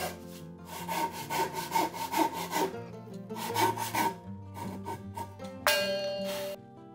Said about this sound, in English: then cut the dovetail joint along the line with a fine handsaw